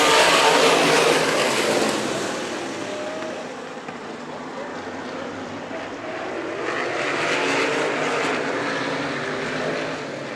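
NCMA sprint cars racing at Stockton 99 Speedway, engines roaring loud and sustained as the pack passes, the pitch and volume rising and falling as the cars sweep by.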